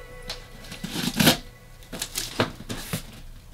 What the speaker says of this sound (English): Remember, when cutting open a box,